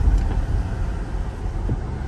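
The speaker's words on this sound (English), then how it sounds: "Had the back window open, so I apologize for the noise, so Onyx can stick his head out the window" Low rumbling wind buffets through the open back window of a Tesla as it drives, a steady broadband roar close to the microphone with no talk.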